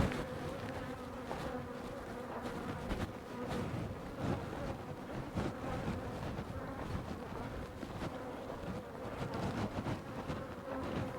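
Bees swarm and buzz steadily around a heavy double-box beehive super, a dense continuous drone with no voices, close and fairly loud throughout.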